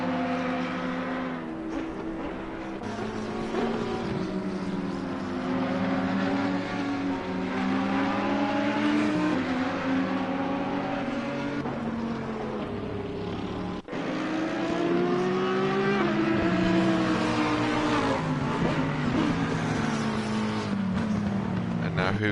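Several GT race cars, including Audis and a Ferrari, run on a wet Imola circuit in a sim racing game, engines droning and shifting pitch continuously at mid distance, with brief drops between gear changes.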